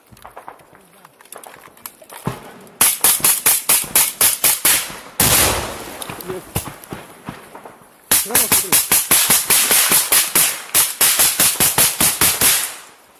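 Gunfire and grenade blasts ring out in a trench during close-range fighting between Russian and Ukrainian soldiers: loud rapid bursts of automatic fire in long rhythmic strings, with a heavy broad blast in between and near-silent gaps before and after.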